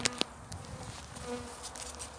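Honeybees buzz faintly and steadily at close range in an opened hive with a bottom drawer, with two sharp knocks near the start.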